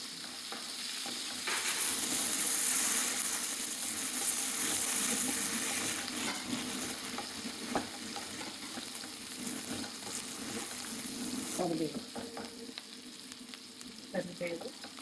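Onions and carrots sizzle in hot oil with reddened garlic for an Andhra-style pappu, a steady frying crackle with stirring scrapes and a brief burst of running water, no voices heard.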